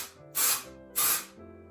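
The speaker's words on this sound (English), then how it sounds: "Give it a shake and then spray it right here." Two short, close hissing bursts from a dry shampoo spray can aimed at hair, each about a third of a second, separated by a brief pause.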